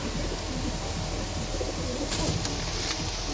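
Low, soft cooing of pigeons repeating under a steady noisy background, with a few brief sharper sounds near the end.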